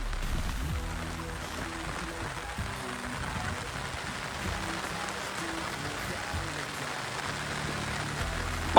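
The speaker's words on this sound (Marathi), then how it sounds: "थोडा पाऊस आला ना, गोंधळ झाला आमचा" Rain falls steadily at Fansad Dam, a continuous close patter with a low hum running beneath it throughout.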